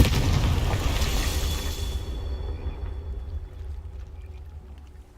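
A Confringo fire spell from the Hogwarts Legacy video game bursts with a deep, loud boom and a bright crackling whoosh, then rumbles off into a fading tail that dies away over several seconds.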